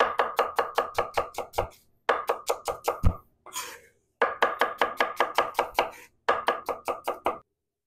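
A knife chops red onions on a cutting board in quick rhythmic bursts of sharp, close thuds, with short pauses between runs of strokes and a brief rustle.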